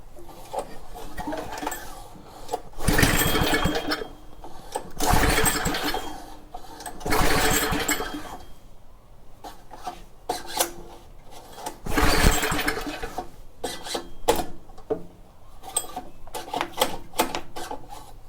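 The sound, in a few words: Troy-Bilt rototiller engine being started on choke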